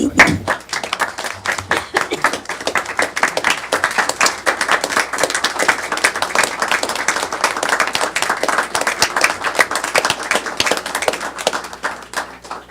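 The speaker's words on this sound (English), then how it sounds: "I think we owe them a big hand of applause" At a formal city council meeting, the audience claps steadily for over twelve seconds, a loud, dense patter of many hands that keeps an even pace throughout.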